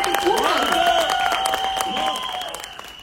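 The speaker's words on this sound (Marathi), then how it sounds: "यासाठी प्लीज टाळ्या वाजवा" An audience at a film song launch event claps in a dense patter of applause that fades toward the end, while a person speaks loudly over it.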